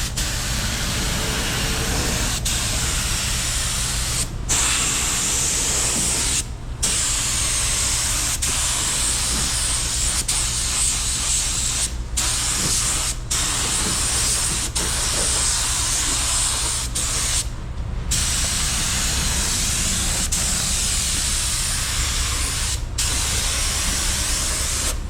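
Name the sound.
budget paint spray gun spraying a second coat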